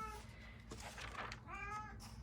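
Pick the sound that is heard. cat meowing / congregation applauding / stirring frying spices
cat meowing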